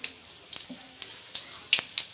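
Mustard seeds, cumin and dried red chillies sizzle in hot oil with a soft frying hiss and sharp, irregular pops and crackles from the seeds.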